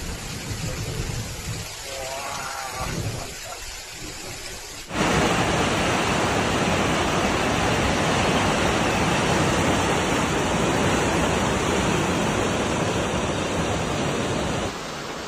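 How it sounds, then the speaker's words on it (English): A torrential rainstorm pounding densely populated Hong Kong, a loud, dense roar of heavy rain and rushing water that jumps up abruptly after a quieter, textured opening and then stays steady and close until near the end. "torrential rains pounded the densely populated city of Hong Kong"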